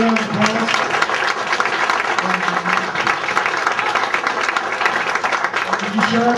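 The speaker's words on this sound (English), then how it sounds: "please give her a round of applause." Applause from a gathered crowd at a social event, a continuous clatter of many hands with distinct individual claps standing out, with faint voices and brief murmurs mixed in beneath.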